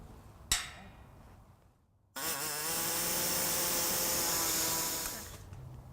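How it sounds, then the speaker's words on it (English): Pneumatic air saw cuts into a car's sheet-metal frame to widen a hole for a carriage bolt: a sharp click, a pause, then a loud, steady, high-pitched buzzing run of about three seconds that winds down. "I'm going to use an air saw and we're just going to open this up a little bit"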